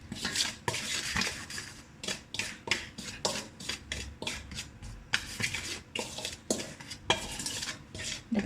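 Spice marinade of cinnamon, garlic, onion powder, paprika and salt mixed in a bowl for chicken and pork, a busy run of clinking, scraping utensil strokes against the dish, close and steady, without talk.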